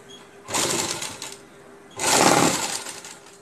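Sewing machine stitching gum piping onto fabric, two bursts of steady whirring motor noise, close and fairly loud, separated by a short pause with no talking.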